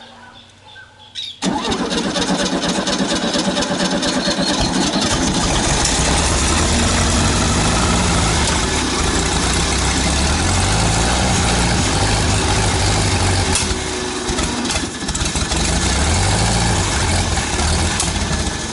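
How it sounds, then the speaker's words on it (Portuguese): An air-cooled 1975 Volkswagen Beetle engine cranks, catches and starts after a brief moment, then runs loudly with uneven revving and idling, close by. "Vai, Bruna, pode dar a partida, eu acelero daqui."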